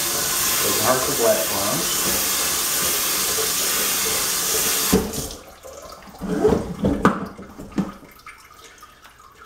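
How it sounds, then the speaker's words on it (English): Cold water sprays hard while rinsing material from a blackworm culture, a loud steady hiss for about five seconds that then cuts off, followed by splashes and a person talking. "I'll spray that thoroughly in cold water."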